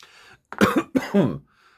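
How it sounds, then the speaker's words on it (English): Two harsh, close coughs in quick succession, loud and isolated, with faint quiet between them. "Please excuse me, I have this cough."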